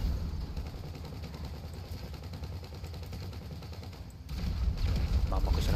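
Continuous gunfire from Grand Theft Auto V gameplay, dense rapid bursts rattling throughout with a louder stretch near the end.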